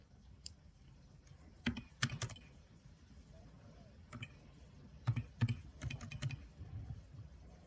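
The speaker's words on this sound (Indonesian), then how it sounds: "pada kolom value, kita ketik angka 2. Dan pada label, kita ketik berpuasa" Computer keyboard typing, heard as scattered bursts of sharp key clicks with pauses between them, fairly quiet against a low room hum, during data entry in statistics software.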